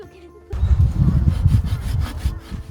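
A hand saw cuts through wood in a school carpentry session, with a close, loud run of rhythmic rasping strokes that starts abruptly after a brief quiet moment.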